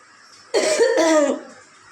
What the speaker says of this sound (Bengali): আজকে আমার খুব কাশি জ্বরটা নেই কাশিটা রয়েছে